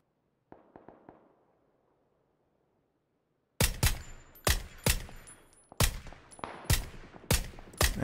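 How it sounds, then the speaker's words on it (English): VSS rifle in PUBG firing 9mm rounds: a few faint distant pops early, then after a short silence a loud, evenly spaced run of sharp suppressed shots, about nine cracks in quick succession. "I'm going to try and use the VSS to lob some of those 9mm bullets over there, see if I can make some contact"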